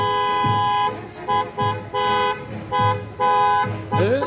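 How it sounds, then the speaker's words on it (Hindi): A vehicle horn honks repeatedly in short toots separated by brief pauses, loud and near, during a 14 August celebration at a fort, with faint street noise underneath and no speech. "ये आपने हॉर्न नहीं सुना"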